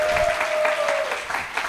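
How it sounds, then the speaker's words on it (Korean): Steady applause fills a church prayer breakfast hall after a musical performance, a dense continuous patter of many hands with a sustained tone from instruments or a microphone briefly ringing underneath. "다시 한번 박수 올려드립니다."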